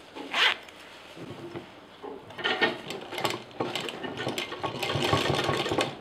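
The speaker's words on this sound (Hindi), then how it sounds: "इसमें अब किनारे किनारे एक फिनिशिंग की मशीन चला देंगे" A finishing sewing machine runs along the edges of a cloth bag for a religious place, giving a close mechanical whir that starts and stops in several bursts, with a sharper zipper-like rasp near the start.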